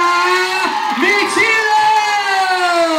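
Crowd cheering and whooping at a K1-style women's kickboxing bout in Rome, a loud steady roar of voices with shouts rising above it, filling the whole stretch without pause.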